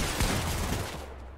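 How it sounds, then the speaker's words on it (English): Rapid gunfire in the Fortnite battle royale video game, a dense, loud burst of overlapping shots with deep thumps that continues steadily and fades a little toward the end. "Hey, who's shooting those?"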